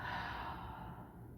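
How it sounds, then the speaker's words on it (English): A single soft, breathy exhale through an open mouth during a yoga breathing exercise, airy and fading over about a second, close and alone with no talk. "Exhale, open the mouth."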